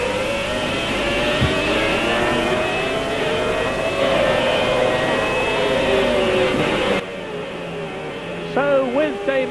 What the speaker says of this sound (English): So with Damon Hill, race leader into the S's, past the McLaren of Mark Blundell, who is in 6th position.